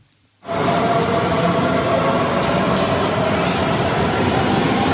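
A Munich metro train rides along its rails with a steady, loud rumble and hiss. The noise starts abruptly after a brief quiet moment and holds unbroken with no voices.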